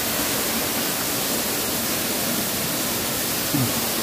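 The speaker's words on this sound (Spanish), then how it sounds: "nos encontramos en la cascada de Don Juan" Water at the Cascada de Don Juan falls with a constant rushing roar, a dense, even wash of noise that holds steady throughout.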